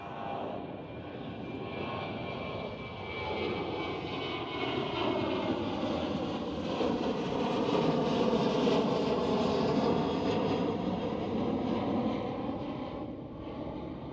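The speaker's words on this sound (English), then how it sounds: "KLM 737." A KLM Boeing 737 airliner at Schiphol, its jet engines giving a steady, loud roar that swells slightly and then eases over a long stretch, with no voices.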